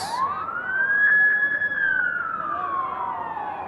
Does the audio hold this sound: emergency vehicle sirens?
yes